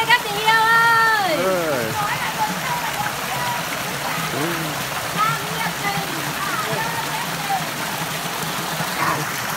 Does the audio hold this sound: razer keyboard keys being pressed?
no